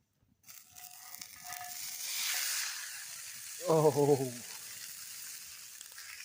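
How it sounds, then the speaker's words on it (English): Food sizzling in a hot pan over an outdoor cooking setup at a treetop cot, a steady frying hiss building and swelling before a brief exclamation from a voice cuts over it. "Let's see if it sizzles."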